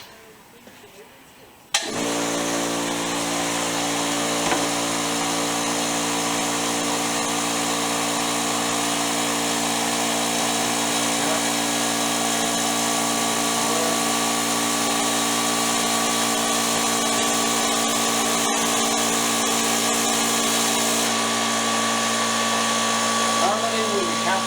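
A drill bores a 5/16-inch hole in steel while repairing a Massey Ferguson No. 10 baler, a loud, steady whining hum that starts abruptly and runs unbroken for over twenty seconds at close range.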